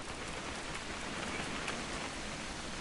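Steady rain falls in a video game scene, a dense, even hiss of drops on surfaces that holds constant throughout at a moderate level, with no talk over it.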